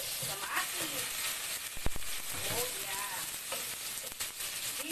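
Vegetables sizzle and crackle steadily in a hot pan as they brown, a continuous close frying hiss with occasional stirring scrapes and a soft clink.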